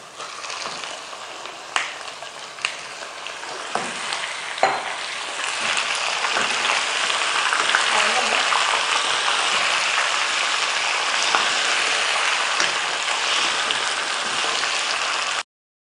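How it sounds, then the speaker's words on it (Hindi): Desi chicken frying in a pan with garlic ginger paste, a continuous hissing sizzle that swells louder midway, punctuated early by sharp clinks and scrapes of stirring. "अब हम इसमें लहसुन अदरक का पेस्ट शामिल करेंगे, और चिकन शामिल करके हम इसको भूनते हैं।"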